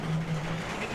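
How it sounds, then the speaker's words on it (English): Rally car in the game WRC 9 sliding across loose gravel on a Rally New Zealand stage, a steady close engine drone with a gritty scrabbling texture and a low tonal hum throughout one unbroken second. "I love the different gravel sounds as well, like the different surfaces, the stones hitting the bottom underside of the car."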